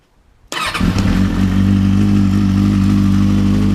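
An old motorcycle with an old exhaust starts abruptly after a brief quiet moment, then settles into a loud, steady, throaty idle close by.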